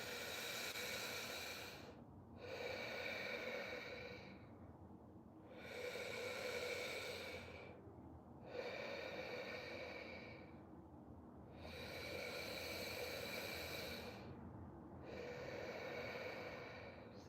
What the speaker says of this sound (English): exhale, chest goes down first, then your belly